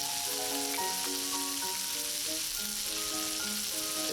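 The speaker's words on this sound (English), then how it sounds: "add it to the pan and start basting." Butter sizzles steadily around a sous vide pork chop being basted in a hot pan, a dense continuous crackle with faint tonal ringing layered over it, no voices.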